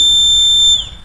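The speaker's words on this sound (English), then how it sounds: "the alarm goes off" Piercing steady electronic buzzer tone from an LDR-triggered transistor alarm circuit, loud and continuous, then cutting off and decaying near the end.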